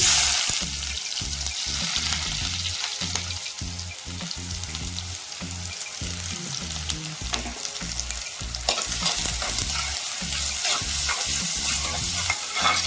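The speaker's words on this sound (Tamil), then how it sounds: "கடுகு நல்லா பொரிஞ்சதும் வெங்காயம் சேர்த்துக்கலாம்" Onions sizzle in hot oil after mustard seeds pop, a dense steady frying crackle close to the pan with frequent stirring clatter that grows slightly louder toward the end.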